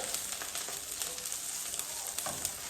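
Ingredients for pansit meki, tapa with sautéed garlic and onion, sizzling and frying in a pan, a steady close hiss with faint stirring clicks.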